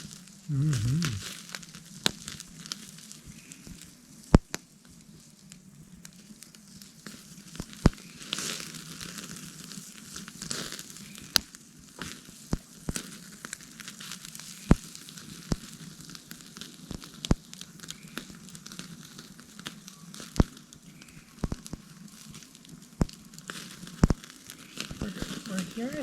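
A hot dog sizzles over a campfire at Summit Lake, with faint, irregular crackles and pops spread across a long stretch and quiet voices now and then.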